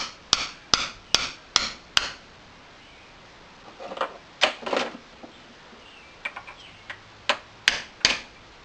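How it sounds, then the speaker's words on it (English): A hammer drives bushings in for king and link pins with a run of sharp metallic blows, evenly spaced at first, then more irregular taps. They are close and loud, with no talking. "Put it on and then drive the bushings in?"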